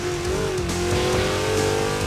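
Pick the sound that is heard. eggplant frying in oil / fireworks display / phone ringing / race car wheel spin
race car wheel spin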